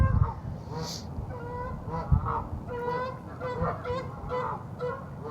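A flock of geese honks repeatedly at moderate distance at a pond above a creek, a busy, overlapping chorus of nasal calls.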